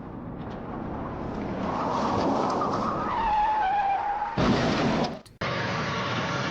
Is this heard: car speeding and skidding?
yes